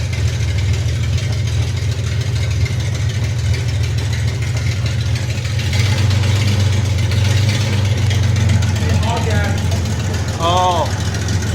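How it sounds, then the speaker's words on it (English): 1977 Datsun 280Z with an L30 engine and four-speed gearbox, clutch popped in second gear so the wheels spin: a loud, steady engine rumble with brief high tire squeals near the end. "Wheel spinning."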